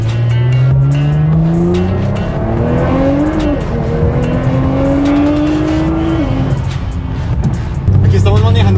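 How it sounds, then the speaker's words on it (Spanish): Nissan GT-R with over 1000 hp accelerating hard, its loud engine note climbing through several upshifts with brief tire squeal, while a person talks over the noise. "Aquí estamos manejando un GTR"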